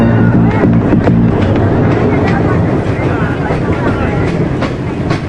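A passenger train runs through a station with steady rumbling and clattering wheels, loud and continuous, mixed with the murmur of a crowd on the platform.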